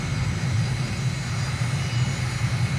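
Aircraft engine droning steadily during a touch-and-go flight in Uruguay, a loud, continuous low hum with no clear change in pitch over a few seconds.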